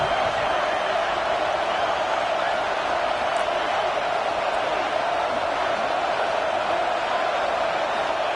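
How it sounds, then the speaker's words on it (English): Steady, dense roar of a stadium crowd in a football video game, a continuous wash of cheering that holds at an even level throughout with no clear peaks. "Listen to the crowd energy here in the early going."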